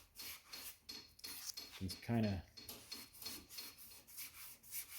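A sanding block is worked over CRE321 high build epoxy primer on a complex curved panel, giving close, rhythmic rasping strokes with one heavier scrub midway; someone briefly speaks.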